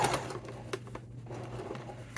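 A sewing machine stitches through layered fabric for a wallet in a quiet room, its faint rapid clatter running steadily and close, with no speech.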